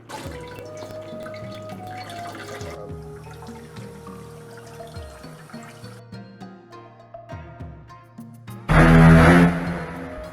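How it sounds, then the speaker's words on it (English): Water drips from wakame seaweed in a kitchen as a series of soft, irregular plinks and drops close by, ending with a short burst of louder splashing, no voices. "Let's get the sound of that dripping."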